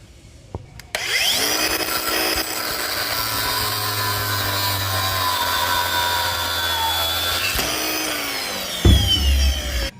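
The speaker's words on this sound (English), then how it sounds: "Get yourself an angle grinder." An angle grinder cutting off bolt heads for a Volkswagen or Audi driveshaft job. A loud, close, sustained whine of metal grinding spins up, runs steadily for several seconds, winds down, then briefly starts again.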